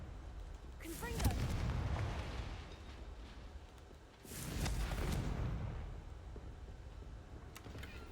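Confringo explosive spell blasts in the Hogwarts Legacy video game, two booming fiery explosions several seconds apart, each rumbling and fading over low game ambience.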